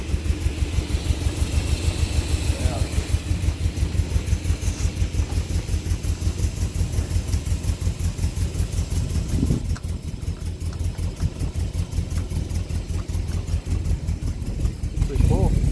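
A 1970 Datsun Roadster SPL311 engine idles while warming up, its steady, lumpy, rapid exhaust pulses loud and close throughout, with a slight dip in level midway and a brief rev near the end.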